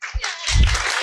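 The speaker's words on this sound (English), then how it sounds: "Any sponsors of the exhibition to please stand up and get a round of applause?" An audience at an evening event for an exhibition about life underground applauds its sponsors, a short burst of clapping from a crowd swelling in under a second, fairly loud and close.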